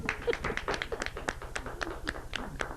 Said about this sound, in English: keep clapping until he gets up here